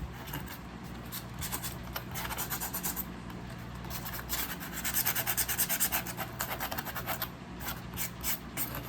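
A coarse Gator sanding block rubs back and forth along the edges of a game controller vending machine template, giving rhythmic scratchy strokes close up that grow louder and quicker partway through.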